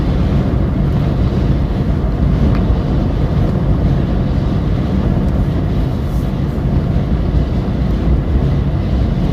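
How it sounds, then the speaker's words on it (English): Strong wind rushes toward a tornado during a storm chase, a loud continuous roar and buffeting across the microphone with no speech. "The wind is racing towards this tornado."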